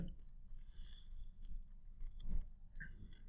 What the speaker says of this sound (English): I love to listen to the crunch it's making every time you take a bite.